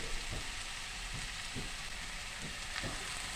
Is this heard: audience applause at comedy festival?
no